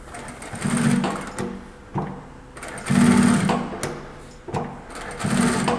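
A FULIAN M33-D5 walking-foot, double-feed industrial sewing machine stitches through stacked layers of material in short mechanical bursts, running about a second at a time and then stopping, close and fairly loud.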